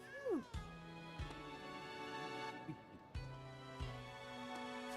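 A pet cat meows several times at close range, with a rising, drawn-out cry near the start followed by softer repeated mews against quiet indoor background.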